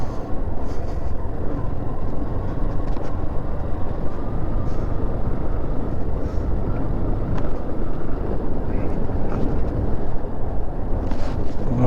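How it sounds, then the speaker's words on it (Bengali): Cold wind in Yumthang Valley in North Sikkim roars steadily and loudly for the whole stretch, with heavy rumbling buffeting on the microphone. No voices are heard. "আর প্রচুর ঠান্ডা হাওয়া চলছে।"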